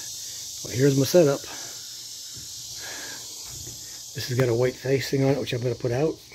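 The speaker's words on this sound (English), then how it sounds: "And you can hear the cicadas in the background." Cicadas buzz as a steady high-pitched drone in the background throughout, while someone speaks in the foreground inside a cargo trailer being fitted with foam insulation.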